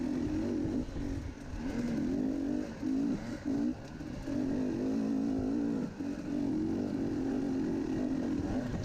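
A motorcycle engine drones steadily under load climbing a hill during an off-road cross-country race, rising and dipping in pitch as it strains, loud and close throughout.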